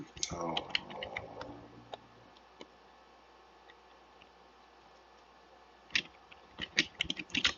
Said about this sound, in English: we're gonna type in a comment